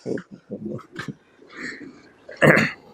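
A few short coughs and throat clears, close by during a lecture, with a louder harsh cough near the end.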